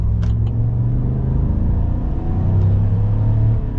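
A 2022 Chevy Silverado 1500 Black Widow pickup, a lifted truck, accelerates with a steady, loud engine rumble and drone that holds close throughout, rising slightly in the second half, with no talking.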